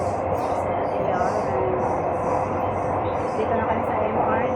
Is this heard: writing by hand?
no